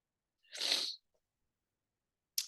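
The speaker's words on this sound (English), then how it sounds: "I'm going to sneeze again." A single sharp human sneeze, a sudden breathy burst lasting about half a second, close and clear against near silence, followed by a brief faint sound at the end.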